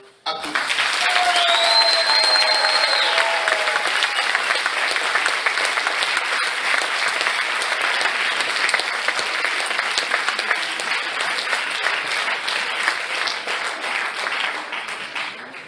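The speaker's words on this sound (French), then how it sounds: "Le deuxième test consiste en un test d'applaudissements que nous allons faire ensemble après un décompte de 3." A live theatre audience at a comedy show bursts into sustained applause on cue, dense and loud clapping that holds steady for about fifteen seconds with a few faint voices and whistles mixed in, before easing off at the end.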